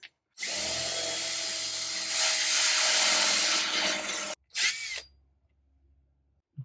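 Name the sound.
drilling out metal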